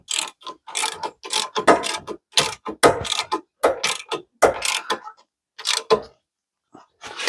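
Ratchet wrench tightening bolts on a 2011 Honda Civic front wheel hub during a bearing replacement: loud, close bursts of rapid clicking in uneven runs, pausing briefly between strokes, with no talking.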